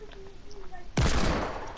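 A single loud shotgun blast in a video game hits abruptly near the end, its boom lingering after some quieter background game noise and chatter.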